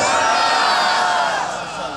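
A crowd at a religious gathering in Gumtala, Shakargarh raises loud, sustained chanted slogans. The voices form a dense, continuous roar that eases slightly toward the end.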